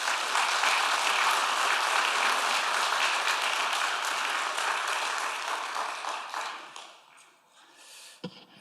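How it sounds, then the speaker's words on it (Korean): Applause from a church congregation at a Sunday afternoon service welcomes a guest speaker, a dense steady roar of many hands that holds for several seconds and then thins out and fades, with a few last claps near the end. "큰 박수로 한번 맞이하겠습니다."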